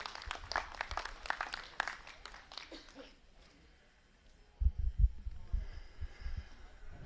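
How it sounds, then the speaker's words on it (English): Audience applause at an American Dorper Sheep Breeders' Society show: about three seconds of moderate clapping from a crowd, which fades into quiet and is followed by a few low thumps and knocks. "let's give these guys a round of applause as well"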